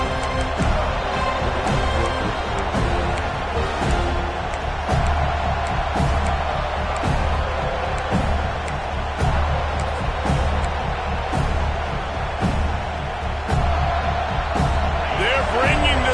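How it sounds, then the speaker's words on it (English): A roaring stadium crowd at a college football game between SMU and FSU keeps up a dense, loud, continuous din, with a commentator speaking over it. "with this place rocking, the crowd forces a false start"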